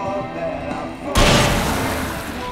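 A sudden loud gunshot-like blast in the video game Alan Wake cuts in about halfway, followed by a sustained noisy rumble, after a quieter stretch of game ambience.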